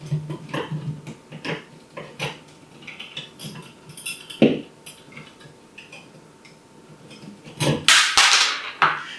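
A small screw drops and clatters during a Nanoleaf Skylight ceiling install, giving a few sharp metallic ticks and knocks with a louder clatter near the end.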